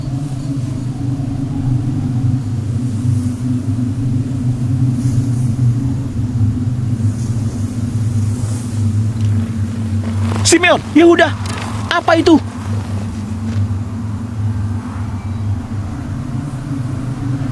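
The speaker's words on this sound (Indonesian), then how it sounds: "Ada badai datang." A low, continuous rumble of an approaching storm holds steady throughout, with voices speaking over it near the middle.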